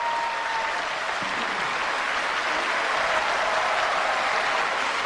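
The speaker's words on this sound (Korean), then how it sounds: "여러분 뜨거운 박수로 맞아주세요" An audience at a church special spring dawn prayer service gives sustained, steady applause to welcome a poet with cerebral palsy onto the stage, filling the whole stretch without pause.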